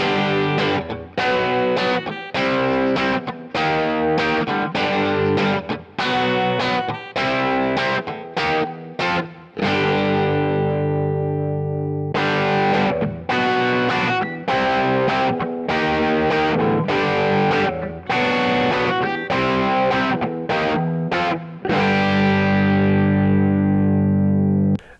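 A Fender Mustang electric guitar with a Seymour Duncan JB Jr humbucker, strumming a run of chords in a rhythmic series of strikes, each left to ring briefly before the next, close and without talk.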